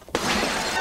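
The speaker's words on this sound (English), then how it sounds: "smashing perfectly good merchandise is shameful and overly destructive" A loud, close shattering crash as a VCR is smashed, with glass breaking in a sudden burst and then a dense, sustained spray of debris, alone with no voices.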